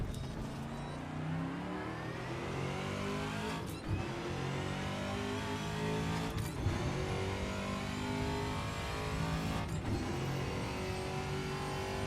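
An American V8 race car from the TA2 pack in Assetto Corsa roars steadily and loudly near the listener, holding a high drone through the gears with three brief dips where the throttle lifts and revs drop.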